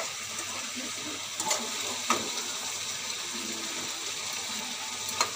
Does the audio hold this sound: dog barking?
no